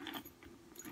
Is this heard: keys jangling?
yes